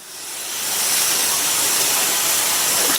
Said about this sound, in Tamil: தோசை மேலேயும் தோசையை சுற்றியும் கொஞ்சமாக எண்ணெய் சேர்க்குறேன்.